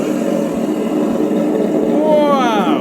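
A GT Power engine sound kit in an RC truck drones loudly from its speaker, a buzzy simulated motor hum that rises in pitch as it revs near the end, with people talking over it.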